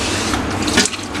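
Running water flows from a kitchen tap while hard dates are rinsed under it, a close, continuous splashing with a brief stronger spatter partway through.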